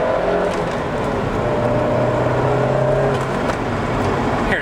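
A Toyota MR2 with a 2.0 turbocharged engine accelerates, its steady loud drone building under boost, heard close from inside the car without a break.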